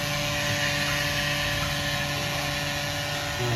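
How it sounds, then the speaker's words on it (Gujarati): A mixer grinder whirs steadily and loudly as it grinds boiled toor dal, the motor droning without a break throughout. "દાળ પીસાઈ રહી છે."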